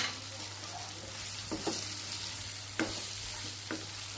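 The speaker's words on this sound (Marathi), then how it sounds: "भाजलेले शेंगदाण्याचं मी कूट घालत आहे आणि त्याला व्यवस्थित परतून घ्यायचं" Green chillies and roasted peanut powder are sautéed in a pan, giving a steady, close sizzle and a few scraping stirs of a spoon against the pan, with no voices.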